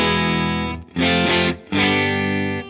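An electric guitar run through a Boss Blues Driver BD-2 overdrive pedal is strummed three times: three loud, distorted, bright chords that ring out alone.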